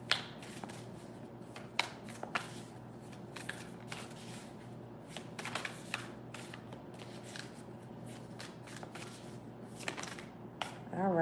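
A deck of cards being shuffled, with quiet, crisp riffling and flicking in irregular bursts and a few sharper snaps, close by over a faint steady hum and no talking.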